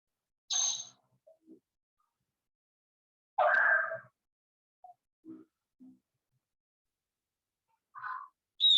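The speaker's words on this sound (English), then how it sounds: "The bird said, I love that, just in case you didn't hear it." An excited grey parrot utters a short spoken phrase in a clear mid-pitched burst, followed by a few soft clicks and scattered brief chirps in an otherwise quiet room.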